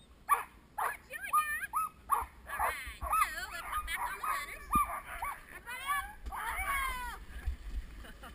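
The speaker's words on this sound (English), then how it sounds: "He's the coolest dog in the world." A dog barking and yipping in repeated short bursts close by, with whimpering between barks and people talking over it outdoors.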